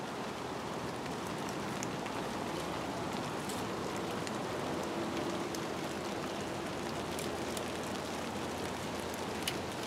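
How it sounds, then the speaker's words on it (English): Steady rain falls outdoors, a continuous even hiss of drops with faint scattered patters, moderately quiet and unbroken throughout. "Raindrops"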